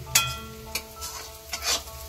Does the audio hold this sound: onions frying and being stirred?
yes